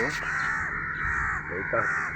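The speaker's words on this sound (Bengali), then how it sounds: "এই কাকটাকে বাঁচানোর জন্যে চারদিকে অসংখ্য কাকের সমাবেশ হয়েছে" Several crows caw repeatedly and close by, gathered around a sick crow, their harsh calls overlapping in short bursts against a steady background.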